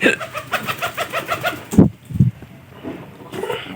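Pigeons in a loft house give a run of soft, rhythmic coos up close, followed by a few louder, lower calls and quieter coos.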